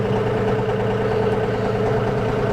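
A John Deere tractor engine runs at a steady, loud idle while driving an MX7 field mower, with a constant low rumble and no pauses.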